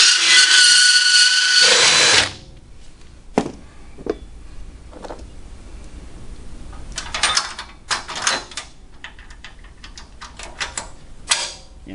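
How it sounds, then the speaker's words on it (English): An electric drill fitted with a burr bit grinds a part during a Steeroids rack and pinion steering conversion. It gives a loud, steady high whine for about two seconds, followed by scattered clicks and handling knocks. "we're going to use a burr on our drill"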